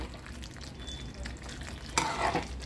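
Stuffed brinjal (bharli vangi, masala-filled eggplant) cooking in a pan, giving a steady low sizzle with stirring scrapes that grows louder and brighter partway through, with no voices.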